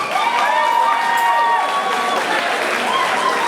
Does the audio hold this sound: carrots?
no